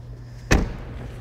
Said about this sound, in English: So let's go ahead and close the door of the car.